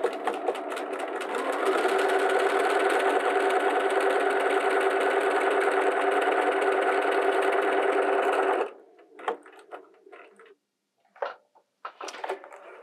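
A Bernina 325/335 sewing machine stitches a continuous chain of the letter A, a loud, steady, fast mechanical whirring and clatter for about eight seconds, then stops, leaving a few faint clicks and handling noises.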